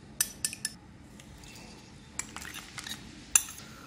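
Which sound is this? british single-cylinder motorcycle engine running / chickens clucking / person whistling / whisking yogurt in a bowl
whisking yogurt in a bowl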